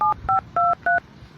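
Four crisp telephone keypad tones beep in quick succession as a number is dialed, loud and clear with short gaps between presses.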